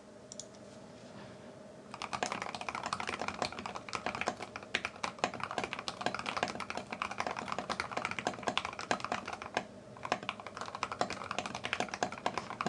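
Typing on a NEO Keys G67 mechanical keyboard fitted with SA keycaps: a dense, fast, continuous stream of close, crisp key clacks starting after a brief quiet pause, with no voices.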